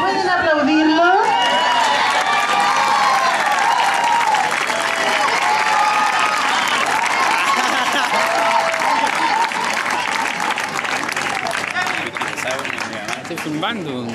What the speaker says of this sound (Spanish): ¿Pueden aplaudirlos?